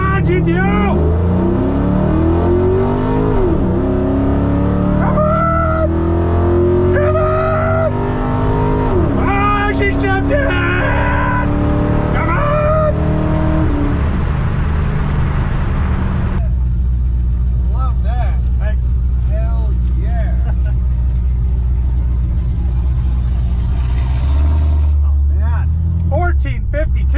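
A 500 hp Pontiac GTO launching down a drag strip, its loud engine revving up through several gear changes, then fading as the car pulls away, with a voice talking over it.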